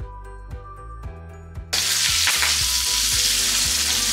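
Small sweet potatoes frying in a pan while wild game dishes are being cooked, starting with a few quiet clicks and taps before a loud, steady sizzle suddenly bursts up and continues, with faint stirring and scraping underneath.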